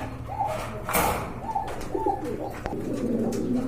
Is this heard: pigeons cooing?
yes